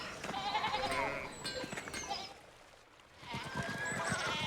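Sheep bleating in the Pentiment video game, several wavering calls overlapping near the start and again at the end with a quiet gap between, faint and close.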